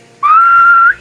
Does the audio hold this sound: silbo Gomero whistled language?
yes